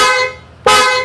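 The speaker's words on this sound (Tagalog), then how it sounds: "Busina tayo." A PIA horn fitted to a Honda Giorno scooter gives two short, loud, close-up toots, the second sharper and brighter, with nothing else heard.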